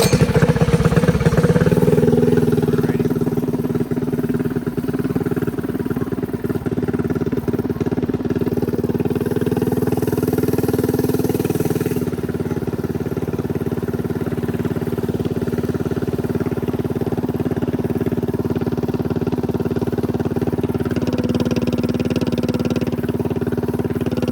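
A stretched mini bike's small engine runs loud and steady from a close riding position, its droning mid-range note holding throughout with slight shifts in pitch, and no talk over it.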